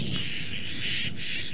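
Starlings calling in the bush near a black mamba, a faint, steady wash of high chirps and squawks with no talk over it.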